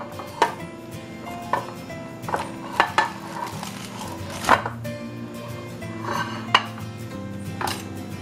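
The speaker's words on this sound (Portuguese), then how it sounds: "Vamos cortar a nossa carne para ver como ficou, gente." A knife cuts through oven-roasted coxão mole beef on a plate, making a series of sharp clinks and scrapes at irregular intervals, close up, with no talking.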